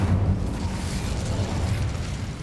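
An Incendio fire spell bursts in Hogwarts Legacy, a sustained rumbling blast of roaring flame with heavy low-end boom that holds steady at a loud level for the full moment, with no voices over it.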